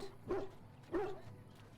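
A dog in the Dragon Age: Origins video game gives two short, moderately close barks about half a second apart, fairly quiet against a low background.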